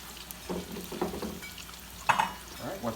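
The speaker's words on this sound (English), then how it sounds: "I'll put my next round of French fries in." French fries dropped into hot oil for fish and chips, bubbling and sizzling in short bursts with a sharper splash partway through, close and fairly quiet.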